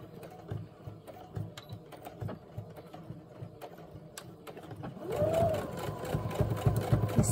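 Home sewing machine running a straight stitch around a fabric tag pocket, with a quiet mechanical whir and clicking that grow louder and steadier in the second half.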